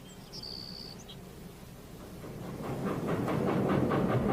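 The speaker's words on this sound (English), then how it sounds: "A train from the east chugs across the Bug River" A train from the east, hauling oil and corn, chugs across a bridge over the Bug River in June 1941: a low rumble swells steadily and breaks into rhythmic chugging pulses, with a faint bird chirp at the start.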